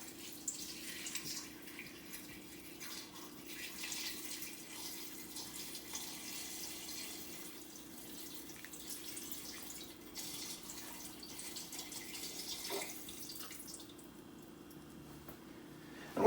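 Tap water runs steadily into a pot holding a chicken and a few onions for soup, a soft continuous splashing that carries on alone for a long stretch and then cuts off.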